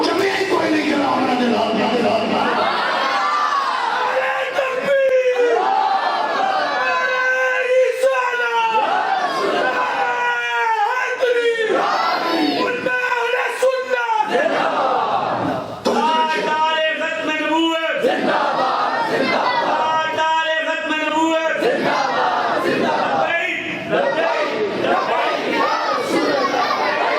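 A large crowd at a Milad un Nabi sermon shouts religious slogans in repeated loud chanted bursts, with voices rising and falling together across a sustained, dense roar.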